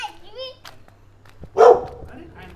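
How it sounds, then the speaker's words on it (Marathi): A single sharp dog bark rings out nearby amid quiet background voices and low ambient hum. "कुत्रा आहे यांच्याकडं"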